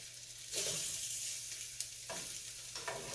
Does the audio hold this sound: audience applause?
no